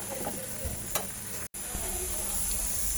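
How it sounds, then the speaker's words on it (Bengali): Desi chicken with onion, ginger-garlic paste and a little chilli powder being stir-fried in a pan, a steady close sizzle with scraping stirs and a brief dropout midway. "বলে ভালো করে একটু কষাচ্ছি।"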